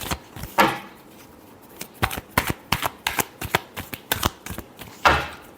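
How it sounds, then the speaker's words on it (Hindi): A deck of tarot cards being shuffled close up, a quick series of crisp riffling flicks and taps in an uneven rhythm, with a longer riffle at the start and at the end. "Last shuffle."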